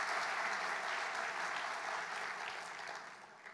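A church congregation clapping together in a steady, fairly distant wash of applause that gradually fades toward the end, with no talk over it.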